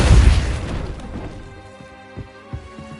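A Depulso spell cast in the video game Hogwarts Legacy: a loud booming burst that decays over about a second, followed by a quieter low rumble and two soft thumps, no speech.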